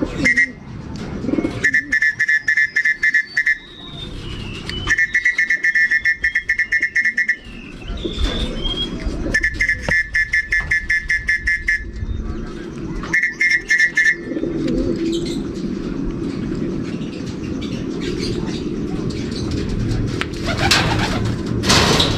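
Racing pigeons coo and call repeatedly on their return from a training race, in bursts of chirpy, warbling calls with some wing flapping and light background noise, heard close by.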